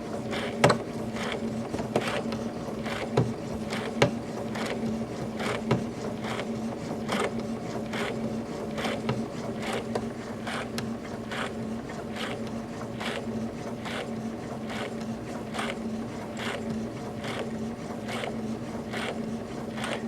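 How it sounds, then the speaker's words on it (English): A combination sewing and embroidery machine stitches slowly, giving a steady, quiet mechanical whir with evenly spaced light needle clicks throughout, alone with no talking. "this is a combination sewing and embroidery machine"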